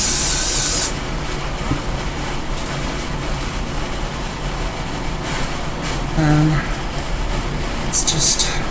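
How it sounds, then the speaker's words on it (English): A spray bottle gives a short burst of hissing mist onto a wig at the start, then quieter background and faint rustling, with another brief spray near the end. "a little bit of spray."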